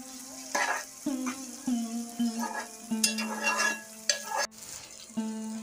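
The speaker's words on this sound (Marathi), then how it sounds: "सर्व टोमॅटो, 2 टोमॅटो घेतले आहेत, ते चांगले फ्राय करून घ्यायचे आहेत" Two tomatoes frying in a pan until soft for an egg masala curry, a low sizzle under repeated scraping stirs that come every half second or so, close and moderately loud, with no talking.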